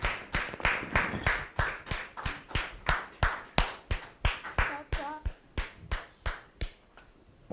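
Audience clapping welcomes a guest onto a French-language talk show, with sharp claps in a steady, even beat of about two or three per second, close and distinct. A voice briefly sounds partway through.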